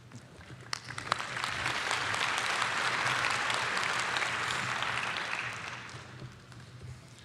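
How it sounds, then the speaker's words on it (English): Sustained applause from a crowd at a college commencement ceremony, clapping swelling to a steady roar for several seconds before tapering off toward the end. "Please join me in a round of applause"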